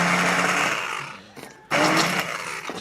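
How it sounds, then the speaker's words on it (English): A blender purees a homemade whiskey BBQ sauce with a loud, steady high-pitched whir that cuts out briefly and then roars back up, close and without any talking. "so what we're going to do is we're going to puree it"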